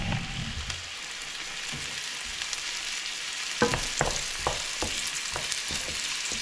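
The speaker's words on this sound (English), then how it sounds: "So I'm combining the garlic and the onions together" Garlic and onions fry together in a pan with a soft, steady sizzle and crackle, broken by a few sharp knocks and scrapes from stirring.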